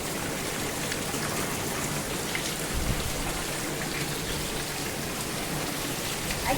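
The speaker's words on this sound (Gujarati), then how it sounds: "સવારમાં જાગ્યા ને વરસાદ મેઘરાજાના દર્શન થઈ ગયા" Heavy morning rain falls steadily in a dense, unbroken hiss that stays even from start to finish, with no voices.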